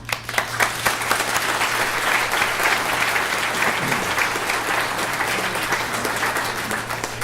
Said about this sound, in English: And they deserve an applause.